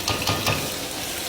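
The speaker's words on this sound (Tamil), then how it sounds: "வெங்காயத்தை போட்டு நல்லா வதக்குங்க." Onions sizzle and crackle in a pan, with a few quick stirring scrapes near the start, then the frying settles to a steady hiss.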